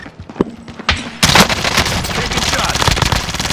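Sporadic shots crack out in a Call of Duty match, then a sustained, loud automatic volley takes over and keeps hammering without pause.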